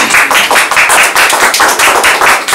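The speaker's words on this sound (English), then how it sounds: "And can we clap for the team, please?" A room full of people at a Scrum meetup claps together for the team after a balloon-tower game, a dense, steady burst of handclaps that stays loud and even throughout, with no talk over it.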